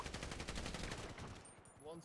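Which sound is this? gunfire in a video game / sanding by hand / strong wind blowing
gunfire in a video game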